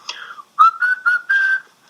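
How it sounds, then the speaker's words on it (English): Someone whistles a short tune up close: a quick opening note, then four clear, sustained notes with brief gaps, and no talking. "Whistling the theme."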